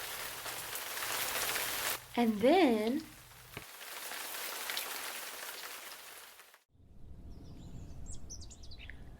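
Rain patters steadily on a surface, with a short pitched warbling sound and a brief spoken phrase; later, faint bird chirps sound over softer rain.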